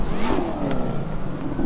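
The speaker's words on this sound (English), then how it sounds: "let's start her up and see what she sounds like" Dodge Hellcat in a chrome B5 blue finish starting up in the racing game The Crew 2, its engine catching and settling into a steady, loud, low rumble that carries on throughout.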